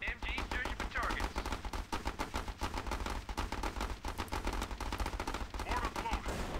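Machine gun fire in the Battle Islands: Commanders game rattles in dense, rapid, nearly continuous bursts throughout, fairly loud and unbroken.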